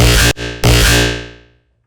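A loud, brash, distorted bass synth without auto filter blasts twice with a short gap, then rings out and fades to silence.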